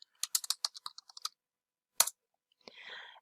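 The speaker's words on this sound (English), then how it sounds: "if you type something here," Typing on a computer keyboard in a Zoom chat: a quick burst of crisp clicking keystrokes, a pause, one more cluster of taps, then a faint rustle, close and quiet.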